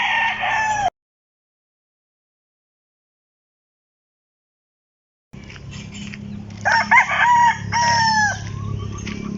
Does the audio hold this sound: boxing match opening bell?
no